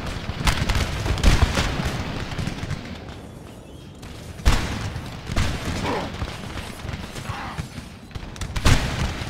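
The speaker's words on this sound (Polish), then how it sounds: "Ta kartacze, moi drodzy." Canister shot from artillery in Napoleon Total War crashes out in repeated heavy bursts, with booming volleys near 1, 4.5 and 8.8 seconds over a constant rumbling battle din of scattered gunfire.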